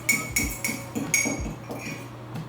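Fork clinking against a bowl while mixing melted butter for a TikTok dessert recipe: several sharp, bright metallic taps in an irregular rhythm, close and moderately loud, with no talking.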